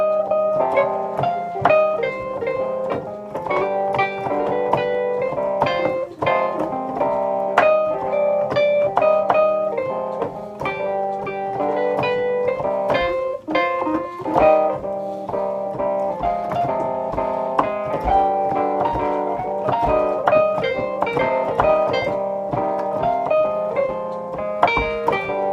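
Piano plays the spiritual Go Down Moses with minor chords, a steady, continuous melody over sustained harmony, close and fairly loud throughout with no pauses.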